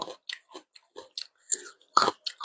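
Close, crunchy chewing of spicy glass noodle salad with wood ear mushrooms and blanched shrimp, a run of quick separate bites and crunches in near silence, without talking.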